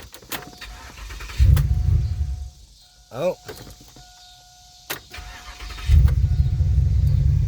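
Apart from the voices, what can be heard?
2007 Pontiac Grand Prix GXP engine starting with key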